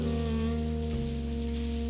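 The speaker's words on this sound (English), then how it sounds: "I like how it's raining on the map screen too." Steady rain falling in the Blackwell Convergence adventure game, a constant hiss over a low musical drone, even and uninterrupted throughout.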